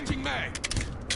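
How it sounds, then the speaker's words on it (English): Magazine swap in Call of Duty MW2 beta gameplay: quick metallic clicks and ratcheting clatter of a rifle reload, with a short scraping slide and sharp snaps, brief and close. "Changing mag."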